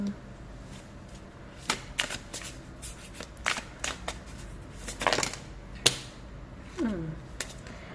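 Oracle and tarot cards are shuffled and drawn at close range, giving scattered soft flicks and snaps at irregular intervals, with one sharper slap near the end, over quiet room tone.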